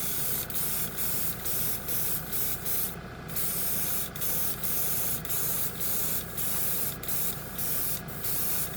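Bursts of spray paint hiss as gold chrome candy tint is sprayed over a white spoon, loud and close, in evenly repeated pulses broken by brief gaps.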